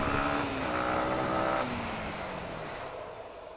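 A motorcycle engine revs loud and close, its pitch sliding down as the rider releases the brake during a stoppie, then settling into a steady lower drone.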